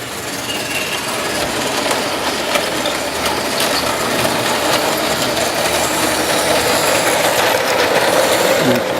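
Märklin model train rolling around a layout, a steady metallic rattling and clicking of small wheels on track with faint squeals, continuous and fairly close.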